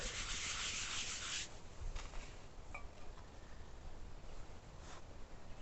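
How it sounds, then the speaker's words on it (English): Talc rubbed onto a mold box for sand casting an engine manifold, heard as a loud, steady dry hiss of scrubbing for over a second, then quieter intermittent brushing strokes close by with no talk. "A bit of talc will help it stop sticking to surfaces."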